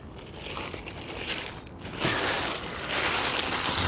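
Soft crinkling and rustling of a plastic bag being handled at a fishing lake, a continuous close crackle that grows slightly louder partway through.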